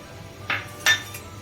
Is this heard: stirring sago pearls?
yes